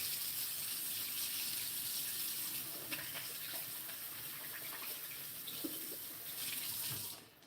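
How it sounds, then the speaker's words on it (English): Steady stream of water from a kitchen tap running for several seconds while hands are washed before handling brisket, a continuous close splashing hiss that cuts off at the end. "wash your hands"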